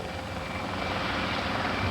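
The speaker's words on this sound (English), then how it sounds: "police helicopter pilot Kevin Peters and his partner aerial observer" A police helicopter on patrol gives a dense, continuous rotor and engine roar that stays loud and steady, swelling slightly toward the end, with no talking.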